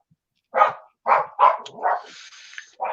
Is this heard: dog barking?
yes